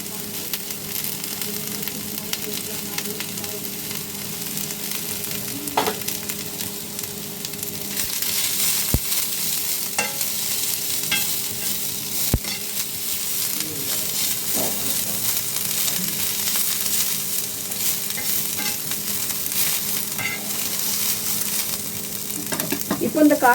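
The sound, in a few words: stir-frying beans and cabbage for egg fried rice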